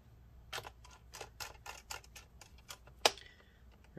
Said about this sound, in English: then we'll just put the screws back in